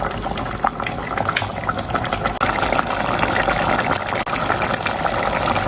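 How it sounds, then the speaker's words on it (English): Sardine curry with salt simmering and bubbling in a pot on the stove, a close, continuous bubbling and gurgling with small pops throughout. "And leave it to boil for another 5 minutes."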